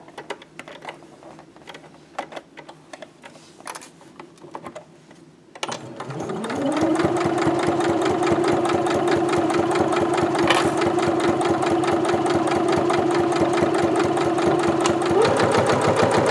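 A sewing machine stitching a round bag starts after a few quiet seconds of faint clicks, then hums steadily and close, its motor whirring loud and even with a slight pickup in speed near the end, no voices over it.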